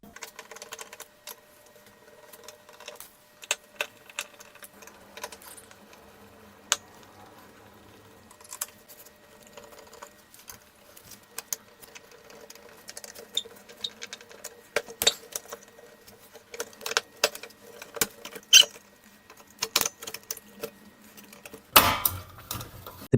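Small screws are backed out of a mini split air conditioner's circuit board with faint, scattered ticks and light clicks, with a few louder metallic taps near the end and no talking.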